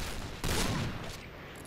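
Rapid bursts of gunfire in the online shooter Point Blank as a player shoots at breakable boxes, a dense clattering volley that swells briefly and then tails off, with no talking.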